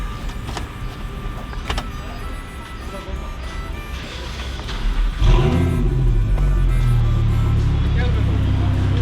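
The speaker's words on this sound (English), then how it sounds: "So this is how you do the emission test. We have to start the car." An Audi R8 engine starts partway through for an emission test, catching and settling into a loud, steady idle that fills the rest of the clip, with people talking over it.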